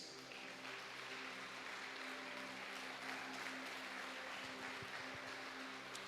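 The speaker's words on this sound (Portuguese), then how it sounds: "Você tem certeza que essas palmas foram para o Senhor?" A church congregation clapping in praise to Jesus, a faint, distant wash of many hands sustained evenly throughout, with a low musical hum underneath.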